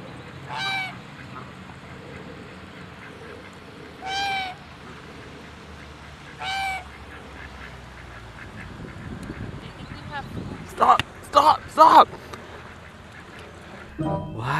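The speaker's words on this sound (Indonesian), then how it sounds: "Wow, ini hewan angsa teman-teman." Goose in the Jurassic World Evolution 2 video game honking in a few short, spaced calls over a low ambient hum, followed by a cluster of sharper, louder honks near the end.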